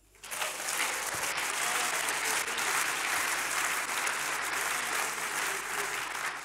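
A church congregation claps in praise of the Lord, a dense, continuous round of applause that starts abruptly and holds steady throughout.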